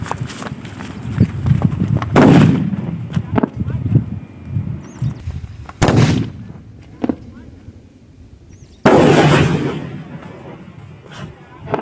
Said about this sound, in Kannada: ಒಂದ್ ಪಟಾಕಿ ಬ್ಲಾಸ್ಟ್ ಆದಾಗ ಕೂಡ ಇನ್ನೊಂದು ಪಟಾಕಿನ ಸ್ವಲ್ಪ ತಡೆಯುತ್ತೆ